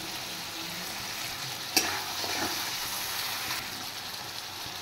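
Spice masala being sautéed in a pan for a vegetarian thali curry, a constant close sizzle with one sharp clack of a spoon and faint stirring scrapes.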